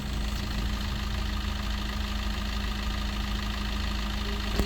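A 2017 Maruti Suzuki Ciaz VDI+ diesel engine idles with the bonnet closed, producing a steady, even low rumble and hum that stays constant and close throughout, with no voices.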